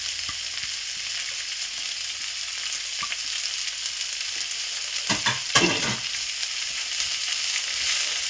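Carrots, peas, capsicum, cabbage and green garlic fry in ghee with a steady hiss and sizzle, broken briefly by a few scraping, clattering stirs partway through.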